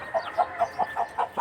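Hens kept at a home in Dhaka cluck in a quick, regular series of about seven short calls, moderately close and clear against a quiet background.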